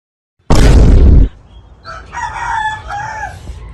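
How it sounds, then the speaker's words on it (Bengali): A rooster crows once, loud and close, a short burst followed by quieter higher clucking and calls from nearby fowl. "কি রে মুরগি ডাকতেছে কি লেগা?"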